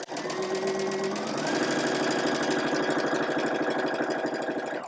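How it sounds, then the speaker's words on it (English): A sewing machine chain stitches quilt block pieces together without breaking thread, its needle running in a steady, fast, even rhythm throughout, close and loud. "And then I'm going to sew the middle left and the middle center together"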